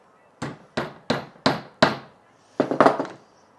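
Small mini screwdriver being tapped into wood while installing a DIY lumber rack: five sharp, evenly spaced knocks, then a quick flurry of three more, loud and close with no speech.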